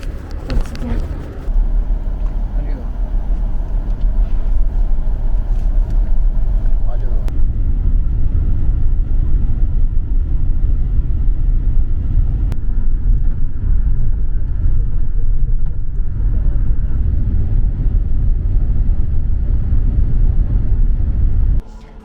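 A dolmuş minibus on the road to Mardin, with a loud steady engine drone and road rumble throughout. A brief shift in the noise comes early, then an even cabin roar follows until it stops at the end.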